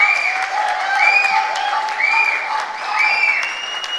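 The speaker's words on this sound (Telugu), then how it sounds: "సో ఈయనకు పడాలి చప్పట్లు" An audience at a Telugu film pre-release event applauds in a steady, full wash of clapping that swells and eases over a few seconds, with music playing underneath.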